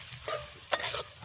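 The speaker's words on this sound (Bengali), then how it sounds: "একটু সুন্দর করে ভেজে নিই আর একটু।" Chicken pulao is stirred and fried in a pan outdoors, with a bright sizzle under two quick scraping stirs of a spoon, close and fairly soft.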